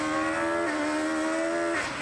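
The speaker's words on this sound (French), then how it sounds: "Je veux le son de la 306 Maxi." Recorded Peugeot 306 Maxi rally engine holding a high, buzzing rev with strong harmonics, dipping briefly and rising again, loud and continuous with no talk.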